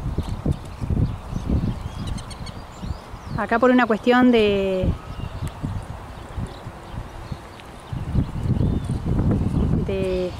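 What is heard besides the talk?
horse hooves clip-clopping while walking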